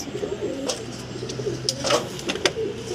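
Pigeons cooing softly nearby, several low repeated coos over a quiet background with a few faint flutters.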